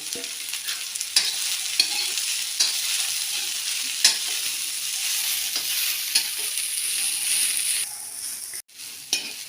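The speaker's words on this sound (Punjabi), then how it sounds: "ਹੁਣ ਆਪਾਂ ਇਸ ਵਿੱਚ ਮੂਲੀਆਂ ਦੇ ਪੱਤੇ ਪਾਵਾਂਗੇ ਤੇ ਇਸ ਨੂੰ ਵੀ ਆਪਾਂ ਚੰਗੀ ਤਰ੍ਹਾਂ ਭੁੰਨ ਲਵਾਂਗੇ" Fenugreek (methi) and radish leaves roast in a pan with a constant loud sizzle, while a spoon scrapes and stirs in regular strokes close by, and no one speaks.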